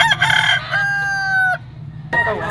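A rooster at a poultry market in Padre Garcia, Batangas crows once, loud and close, with a long, drawn-out call that cuts off sharply near the end.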